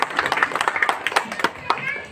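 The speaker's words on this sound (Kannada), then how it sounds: "ಜೋರಾಗಿ ಚಪ್ಪಾಳೆ ತಟ್ಟಲಿಕ್ಕೆ ಇಷ್ಟಪಡ್ತೇನೆ" Loud clapping from an audience at a public event about reviving a sugar factory, a dense run of sharp hand claps with voices mixed in beneath.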